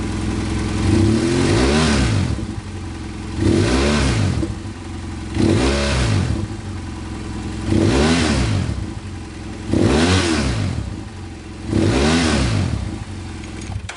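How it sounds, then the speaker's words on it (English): A BMW F800GS motorcycle engine fitted with a Rekluse EXP automatic clutch revs in six evenly spaced bursts, roughly every two seconds, dropping back to a steady idle between each rise. The engine is close and loud, with no talking. "start the engine, put light pressure on the clutch, and then as you rev the engine, see it moving."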